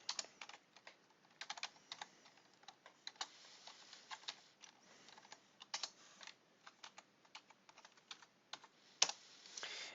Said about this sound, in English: I'm just going to type it out here